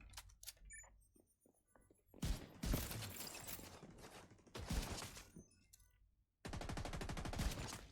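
Rifle fire in The Division 2 video game comes in several loud bursts of rapid shots, closing with a dense sustained volley, with quieter gaps and small game sounds between the bursts.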